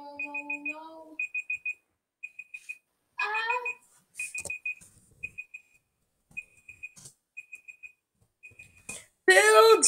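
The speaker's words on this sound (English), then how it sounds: "Oh, and that's the timer!" An electronic timer alarm beeps in short repeated bursts of high tones, loud and close, interrupted by a person speaking and other brief household noises.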